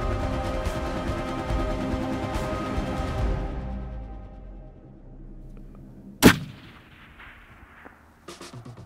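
A single sharp rifle shot cracks out while mule deer hunting on Catalina Island, loud and abrupt after a fading hum, followed by quieter scattered sounds.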